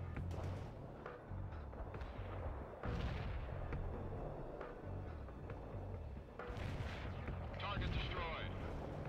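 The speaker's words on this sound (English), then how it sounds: "Mortar strike inbound." Mortar strike explosions in the video game World in Conflict, heavy booming blasts and rumbling impacts that roll on continuously, with battle noise and radio-style voices speaking over them.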